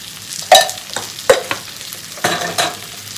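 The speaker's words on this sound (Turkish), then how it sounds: "Tekrar şöyle bir karıştırıyorum ve suyunu veriyorum artık." A spoon stirs spinach soup in a pot, giving several separate scraping clinks in an uneven rhythm over a faint sizzle, close by with no talking.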